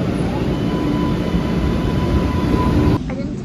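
A subway train in a Boston station produces a loud, continuous rumbling roar with a faint steady whine, which drops off abruptly near the end.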